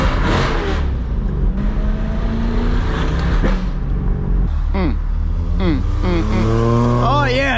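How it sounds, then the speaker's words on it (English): A C8 Corvette with its factory cat-back exhaust: loud engine and exhaust drone steadily, with rising revs and harmonic sweeps near the end, while voices talk over it. "This car sounds so good, and I still want to make it louder."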